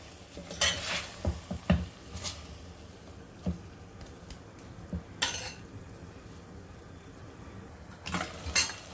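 Chopped ridge gourd (turai) sautés in a pan with onion-tomato masala, giving a quiet, low sizzle under repeated scraping and clinking of a spoon against the pan, with a few louder stirring scrapes.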